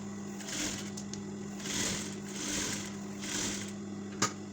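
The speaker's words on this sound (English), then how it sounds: "when I get to the place that I marked, I have to back stitch and make sure that I hold it very well" A sewing machine back stitches seams on a pinafore dress, running in a steady mechanical hum with three or four short bursts as the stitching pauses and resumes, close and moderately quiet.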